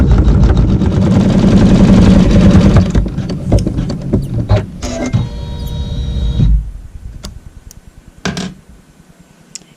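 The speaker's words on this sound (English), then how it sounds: "sew a tack down stitch using the same neutral thread" An embroidery sewing machine runs a tack down stitch with neutral thread on a quilt block, a loud steady mechanical whir for about three seconds, then stuttering stops and starts, softer rhythmic clatter, and a few sharp clicks as it winds down.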